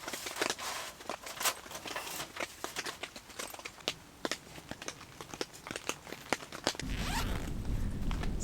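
A zipper on the cover of a large canvas hot tent with a wood stove is pulled in a long run of quick rasping strokes, close and clear, ending in a steadier, louder rushing pass.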